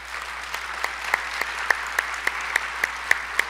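A congregation claps at a church conference, a steady rhythmic beat of many hands striking together in time, with sharp accented claps roughly three per second over a low background hum.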